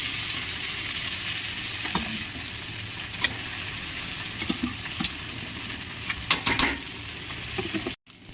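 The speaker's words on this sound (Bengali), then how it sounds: "এখন আলুগুলো দিয়ে দেবো আলুগুলো একটু লাল লাল করে দিয়ে দেবো" Potatoes and eggs frying in oil in a village kitchen wok, a steady close hiss broken by scattered crackles and scraping stirs that cluster toward the end before a brief dropout; no talk.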